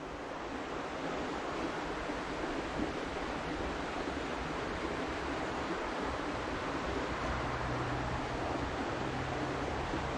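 Creek water rushing steadily beside a hillside nature trail near a road, a dense, continuous broadband wash with no pauses, close and fairly loud, with no voices.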